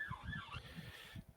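An emergency vehicle siren wails through a London street, its rising and falling tone sounding somewhat distant over a low background rumble, with no other sounds standing out.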